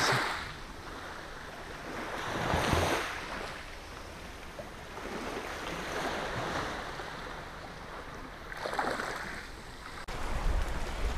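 Waves at La Mirandole beach wash in with a steady, broad hiss of surf, rising in two louder breaking swells. Wind buffets the microphone throughout, and no voices are heard.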